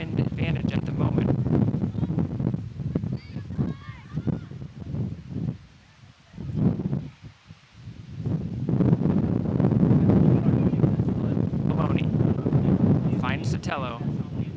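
Strong gusting wind sweeps across an outdoor soccer field during a women's college match, a loud broadband rush of microphone buffeting that surges and dips throughout, briefly easing midway before roaring back, with a commentator talking over it.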